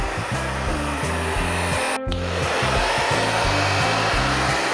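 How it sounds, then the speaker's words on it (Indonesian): A hair dryer blows close up onto a screen-printing screen, a loud steady whir with a cyclic rising and falling drone, briefly cut off for an instant before starting again. "Tapi karena kita ingin mempercepat, kita gunakan hair dryer."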